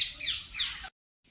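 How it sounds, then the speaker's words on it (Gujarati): A bird at a zoo in Gandhinagar gives two high, plaintive, wailing calls close by, a little like a crying child, then it goes quiet. "હવે આ પક્ષી પણ એવો અવાજ કરે જાણે છોકરું રોવે છે,"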